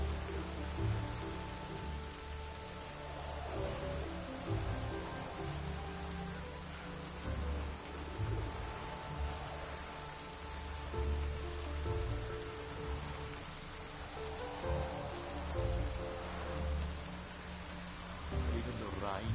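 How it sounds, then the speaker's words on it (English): Steady rain falls in The Witcher 3, a continuous dense patter with a low rumbling undertone and faint game ambience, holding at an even level throughout with no talking. "Even the rain smells different here."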